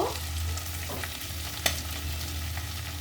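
Prawns frying in a pan, giving off a steady, close sizzle with faint stirring scrapes and one sharp clink partway through; no one speaks.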